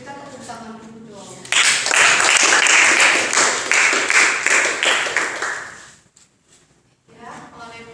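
Junior high school students at a literacy event clap together in a loud, dense burst that swells suddenly, holds for several seconds and fades out, with a voice speaking before and after it.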